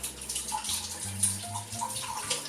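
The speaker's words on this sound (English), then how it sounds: "Just put your hand over the jar and you just strain them," Soaking water drains from a jar of soaked cashews through a hand held over the rim, making a continuous close trickle and splash with small gurgles throughout.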